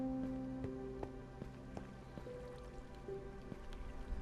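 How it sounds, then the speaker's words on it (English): Water drips in a cave ravine in Minecraft with shaders, with faint, irregularly spaced plinks and drops over a soft, low ambient bed. "Love the sound of water with the shaders."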